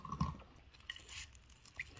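Crunchy chewing of crispy, flaky puff pastry filled with spinach, ham, onion and garlic, a few close, quiet bites and crunches with moist squishy sounds in between.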